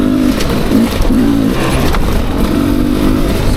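A Beta 300RR Race Edition two-stroke dirt bike engine heard while riding, a loud buzzing drone that surges and dips in rhythmic revs, close and continuous with some clatter and wind noise underneath.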